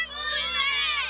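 Schoolgirls in South Waziristan chanting slogans at a protest demanding education, a loud, continuous crowd of young voices shouting together with a busy, high-pitched texture.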